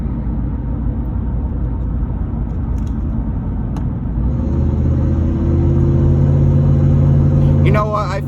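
A lifted truck's engine rumbles low and steady while rolling along, swelling slightly as the gas is applied, with a brief rattle near the end.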